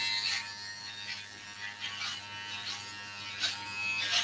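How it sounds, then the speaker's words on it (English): An electric hair clipper buzzes steadily up close while cutting hair, its corner drawing a line, with the hum rising and dipping slightly as it moves through the hair. "If we just use the corner of the clipper and just draw a line"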